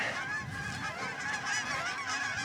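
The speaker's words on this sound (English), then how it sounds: "Jeez, geese." Geese honk repeatedly in overlapping, nasal calls across an open disc golf course, fairly close and persistent, with no one speaking over them.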